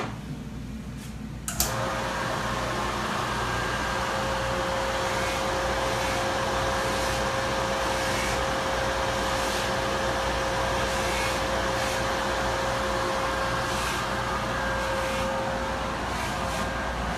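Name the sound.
polishing buff with red rouge compound on a ring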